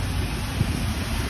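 Night wind blowing through rain in Riyadh, a steady, loud, broadband rush pressing on the microphone with no breaks and no voices.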